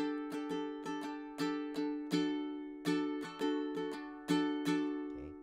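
A ukulele strummed in a quick, repeating down-and-up rhythm, bright chords ringing close and clear with no voices.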